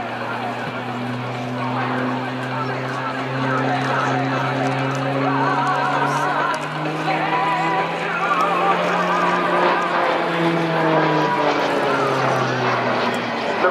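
A T-6A Texan II turboprop trainer performing an aerobatic vertical loop at an airshow, its propeller drone steady and loud with slowly bending pitch as the aircraft climbs and pulls around.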